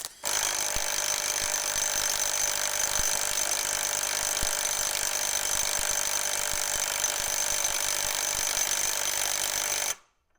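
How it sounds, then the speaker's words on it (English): Ingco cordless impact wrench rated at 500 Nm runs a fastening test, giving a loud, steady high-pitched hammering whir that holds for about ten seconds without a break, then cuts off abruptly. "time now for the 500 Newton meter impact wrench fastening test"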